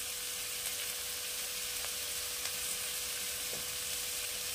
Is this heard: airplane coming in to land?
no